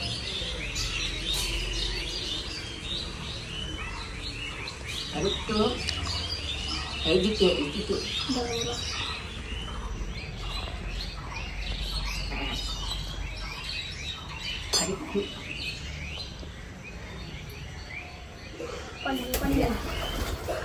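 Pigeons chirp and call continuously through the scene, with soft cooing mixed in, while people talk intermittently in the background.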